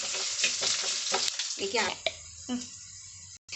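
Curry leaves and garlic sizzle and crackle in a hot pan while being stirred, with scraping spoon strokes over steady frying hiss, close and fairly loud.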